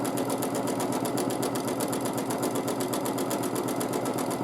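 A sewing machine runs fast and steady while free-motion quilting narrow, closely spaced stripes, its needle clattering in a rapid, even rhythm at close range with no talk.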